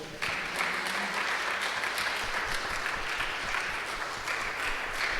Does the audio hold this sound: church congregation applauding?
yes